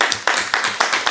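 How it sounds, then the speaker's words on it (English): A small audience claps for a presenter after his talk, with a few steady, evenly spaced claps close to the listener and no voices heard. "We can applaud you."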